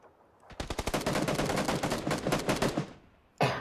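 Rapid automatic gunfire in PUBG, a dense burst of closely spaced shots fired for about two and a half seconds, loud and close, then a brief pause and another shot starting at the very end.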